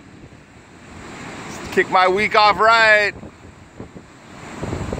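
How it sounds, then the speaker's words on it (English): Stormy, restless ocean surf at McCree Cove in Ventura Harbor on a day with a high surf advisory, heard as a steady wash of waves and wind noise under a man's brief spoken remark. "the ocean is still very stormy and restless"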